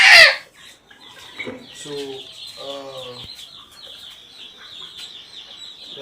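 Chickens on a poultry farm cluck and call close by in short, irregular bursts, with a constant high background chorus; someone says a word at the start.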